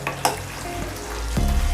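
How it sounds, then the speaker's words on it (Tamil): Chicken gravy with a sprinkle of chopped coriander leaves being lightly stirred in a pan, giving a soft sizzling, scraping stir with a couple of brief clinks near the start, close and steady throughout. "தூவிட்டு லைட்டாக மிக்ஸ் பண்ணி விட்டுடுங்க."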